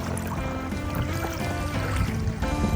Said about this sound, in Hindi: अचानक से लहरें इतनी तेज़ हो गई और आवाज़ पानी करने लग गया।